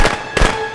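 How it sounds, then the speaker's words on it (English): A firecracker goes off in the Friday the 13th video game, sounding as loud, close, crackling bangs, with three sharp bursts in under a second. "What is that firecracker?"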